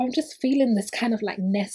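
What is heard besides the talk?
No everyday noises stand out.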